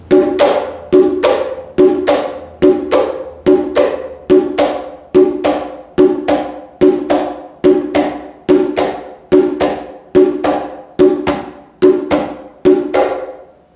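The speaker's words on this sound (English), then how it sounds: "The high drum part goes like this." A high hand drum played in a steady repeating Yanvalou pattern of open tones and sharp slaps, evenly spaced and ringing briefly, close and loud with no talking.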